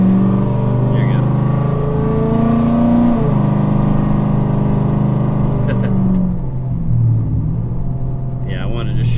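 Loud, close V8 rumble from a Dodge Challenger R/T with the 5.7 Hemi, automatic transmission and Texas Speed Stage 3 cam, climbing through a sustained rev, easing off, then rising again.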